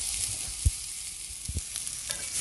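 Veggie soya chunks drop into a hot curry pot, giving a steady close sizzle with a couple of low thumps as they land, no voices.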